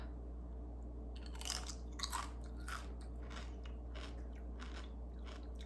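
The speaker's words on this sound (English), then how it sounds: "Good and crispy, crunchy." Close, crisp bites and crunching of a crispy chicken-flavored snack chip from a homemade snack mix, with several sharp crunches followed by softer chewing over a low steady hum.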